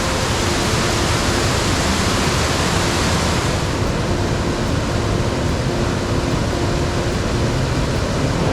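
The São Pedro waterfall in Faxinal, Paraná, heard from its side as a dense, constant roar of falling water, loud and close, with no pauses.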